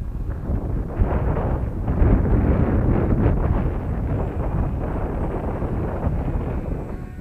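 Strong wind buffeting the microphone outdoors during an RC F16 model plane flight, a continuous loud low rumble with gusty surges throughout.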